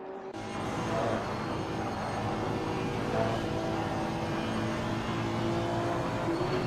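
A GT race car in a sim-racing esports championship, engine droning at a steady high pitch as it holds speed around the track, with a faint shift midway and no commentary over it.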